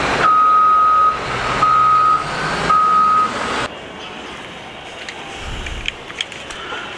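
A big construction dump truck sounds three loud, evenly spaced reversing beeps over engine rumble, then the beeping stops and a quieter idle remains with faint scattered clicks.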